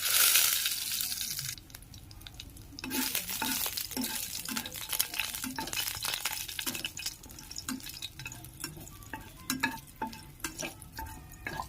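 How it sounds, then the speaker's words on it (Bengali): Whole spices (bay leaf, cloves, cardamom and dried red chili) dropped into hot oil, giving a close sizzle and crackle with stirring scrapes and irregular pops, no voices. "তেল গরম হয়ে গেছে, এতে দিয়ে দেব আমি তেজপাতা, তারপর দিয়ে দেব লবঙ্গ, এলাচ, এবার দিয়ে দেব শুকনো লঙ্কা"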